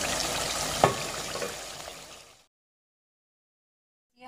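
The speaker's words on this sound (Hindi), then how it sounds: "रखने के बाद उसकी हल्की 5 से 10 मिनट के लिए उसकी भुनाई करेंगे इन कोफ्तों की।" Nargisi koftas sizzle and fry in a pan while being gently stirred and pressed with a spoon, a close, bright crackle that fades out after about two seconds, followed by silence and a short sound at the very end.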